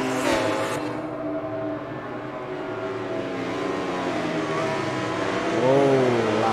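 A motorcycle held at full throttle in the MotoGP 19 racing game on the Austria circuit, a steady loud high-revving engine drone with rising pitch near the end.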